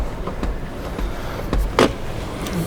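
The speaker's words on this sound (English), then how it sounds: "let's close the door." A 2021 Volkswagen ID.3 Pro car door shuts with a single solid thump near the end, preceded by faint rustling and small clicks inside the vehicle.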